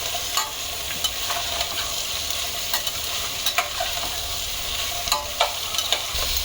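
Onions sauté in a hot pan for a gravy masala base, a continuous soft sizzle punctuated by sharp spatula scrapes and taps every second or so, close and with no voices.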